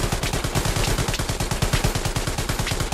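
A tank firing its machine gun in the World War II video game Hell Let Loose: a steady, rapid burst of loud, evenly spaced shots that runs unbroken from start to finish.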